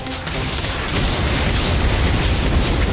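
Confringo explosion spell going off in the Harry Potter game Magic Awakened, a dense, sustained booming blast that fills the whole moment at steady loudness, with no voices over it.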